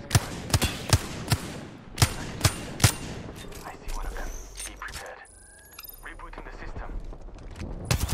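Gunfire in the battle-royale game Apex Legends: sharp, close single shots in quick succession, then a lull of clanking gear and shield-recharge tones before more shots crack at the end, with game voice lines mixed in.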